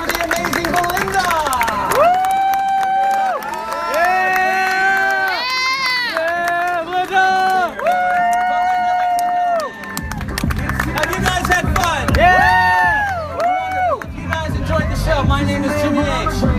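A magic show audience cheers and applauds for a magician, a loud continuous crowd roar mixed with music playing throughout.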